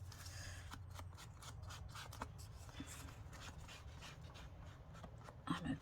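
Scissors snip through material during sewing of a hidden zipper pocket, a quiet series of short irregular cuts and rustles close by, with a louder handling clatter at the end.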